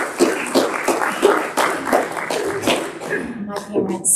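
A keynote audience gives a round of applause for the speaker Christy Swaid, with scattered, uneven clapping in the room and voices mixed in throughout, the clapping thinning toward the end.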